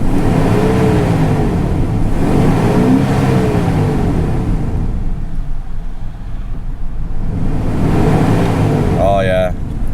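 Old Ford OBS pickup truck engine running after troubleshooting, a close, loud, rumbling idle with repeated rising revs and a whirring mechanical tone, a short voice briefly heard near the end.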